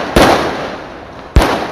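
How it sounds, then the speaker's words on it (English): Two fireworks burst over Garapan in front of a casino, each a loud sharp bang followed by a crackling, decaying tail about a second apart. "Fireworks lit up the sky in front of the casino over the weekend"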